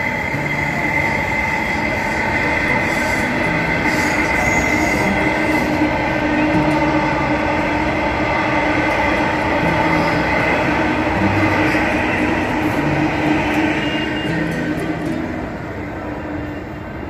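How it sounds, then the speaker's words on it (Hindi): A Delhi Metro train runs past near Ashok Nagar in New Delhi, giving a loud, steady rumble and rail roar with faint wheel clatter, easing slightly at the end, and no voices over it. "अब यहीं से देखिए मेट्रो जा रही है"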